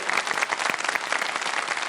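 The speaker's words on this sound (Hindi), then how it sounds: "तालियां बजाएं" Studio audience at a televised quiz show applauding, a dense steady burst of many hands clapping, fairly close and even throughout.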